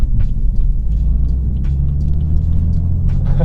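A modified BMW F82 M4 Competition coupe underway, its engine a steady low rumble from inside the cabin with light road noise.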